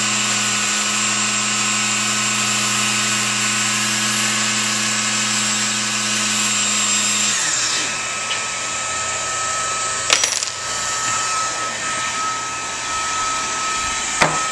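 An HSK28 plastic extrusion welder runs with a steady, loud motorized whine that drops in pitch partway through, continuing as a constant hum with a brief clunk near the end.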